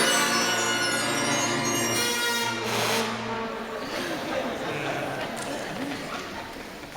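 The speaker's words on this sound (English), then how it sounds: "They got to produce their first sound on their instruments." A sixth grade school band blows its first tones on new instruments, a dense, wavering mass of overlapping honks and held pitches that stays loud and messy, with a few notes dropping in and out.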